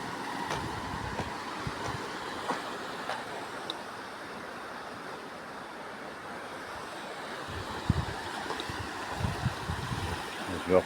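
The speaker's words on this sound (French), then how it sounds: "Ça fait du bien d'entendre l'eau." Flowing water heard close by along a walking trail, a steady broadband rush of running water with faint occasional knocks, no talking.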